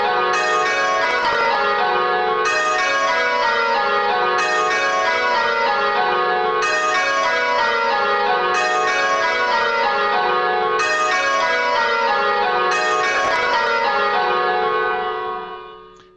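A ring of church bells pealing in repeated descending rounds, with some bells striking out of their proper place in the sequence, loud and steady throughout before fading at the end.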